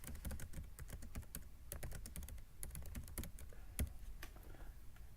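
Rapid keystrokes on a computer keyboard while typing a note, close and quiet, an uneven run of sharp clicks with brief pauses and no voices.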